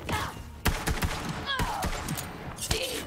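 SMG gunfire in the video game Borderlands 3, a few sharp bursts of rapid shots and thuds scattered across the short clip, moderately loud, with faint game voices between them.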